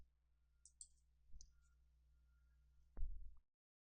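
A single sharp mouse click stands out near the end, preceded by a few faint softer clicks over a low steady hum.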